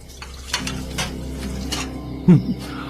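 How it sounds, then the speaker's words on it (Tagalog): Dishes being washed in a home kitchen, with faint clinks and rattles of plates over a steady low hum, then a louder clatter of crockery near the end. "abalang naguhugas sa kusina ng mga pinggan na pinagkainan namin"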